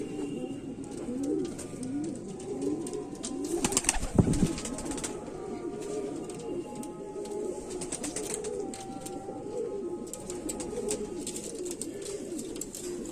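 Kamagar pigeons cooing in a repeated rolling rhythm, with a brief burst of flapping wings partway through and faint background noise, close and steady with no talk.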